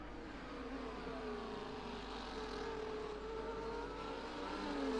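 A pack of race cars in a racing game speeds up behind the safety car, with a steady, continuous engine drone that rises slightly in pitch.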